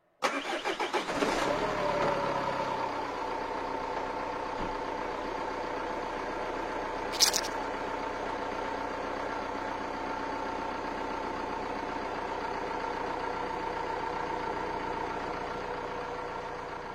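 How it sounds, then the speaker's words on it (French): A car engine cranks and catches during a battery test, then settles into a steady, even idle that runs on alone for the rest of the clip, with one brief click partway through. "on démarre le moteur."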